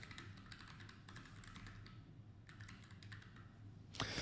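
Fingers type a prompt on a computer keyboard in quick uneven bursts of soft clicks, close but faint over a low background hum, ending in a louder clack, with no voices.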